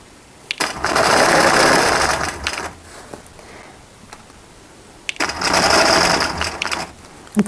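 A sewing machine running while quilting to pull up the bobbin thread, two loud bursts of rapid stitching about two seconds each separated by a quiet pause with faint handling sounds.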